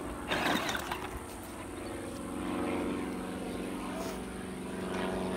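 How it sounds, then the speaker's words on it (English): A propeller airplane drones overhead at a distance, a steady low hum that swells slightly and fades, with no other sounds. "you see that airplane way out there?"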